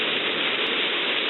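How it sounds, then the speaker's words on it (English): Torrential rain in a downpour over a garden, a steady, dense hiss of water falling hard, loud and unbroken throughout the short moment. "We have got a torrential downpour today, which is great for the garden."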